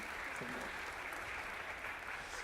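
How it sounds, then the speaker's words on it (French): Steady applause from a conference audience at an innovation and entrepreneurship forum, a dense even wash of clapping held at one level for the whole stretch, with no voices over it. "Merci pour ton courage, on peut applaudir."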